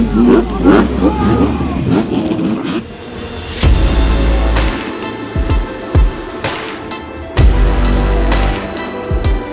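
Supercross dirt bikes roar off the starting gate at an indoor Indy race, engines revving hard and then cutting in repeated bursts as the rider shifts up through the gears.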